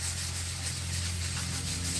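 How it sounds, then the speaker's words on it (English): An item is sanded down by hand before a heat transfer graphic goes on, giving a continuous close scratchy rubbing over a low steady hum with no voices. "after I get done sanding this thing down"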